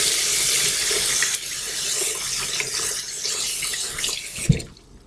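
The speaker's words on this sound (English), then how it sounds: "rinse my fingers." A kitchen tap runs steadily while fingers are rinsed under it, a close hissing stream of water that shifts slightly as hands move, then cuts off with a brief splash before quiet.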